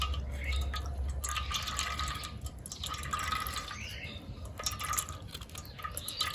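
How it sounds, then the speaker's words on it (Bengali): Fresh pineapple juice is strained through a strainer in a village kitchen, with continuous trickling and dripping liquid close to the listener and a few soft clinks and rustles over about six seconds. "এভাবে ছেঁকে ছেঁকে নিতে হবে, ছেঁকে জুসটাকে বের করে নিতে হবে।"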